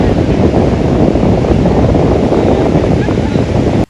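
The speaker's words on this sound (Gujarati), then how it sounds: "તમે ખાલી એકવાર દરિયાનો અવાજ સાંભળો।" Sea waves at Madhavpur beach make a continuous, loud roar of surf mixed with buffeting wind, with no voices, cutting off abruptly at the end.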